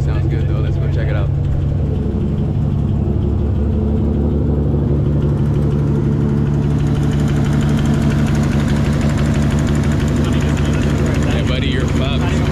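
A car fitted with a titanium downpipe idles loudly and close by, a rough, steady low rumble with a slight uneven pulse, while a person talks over it.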